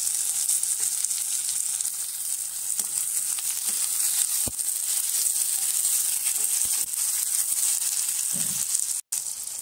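Chopped onion and ripe tomatoes fry steadily in a pan for a spicy chicken curry, a loud continuous close sizzle with occasional utensil clicks and a brief dropout near the end.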